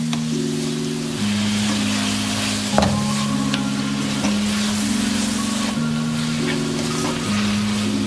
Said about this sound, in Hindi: डालने के बाद अच्छी तरह करेंगे इसे मिक्स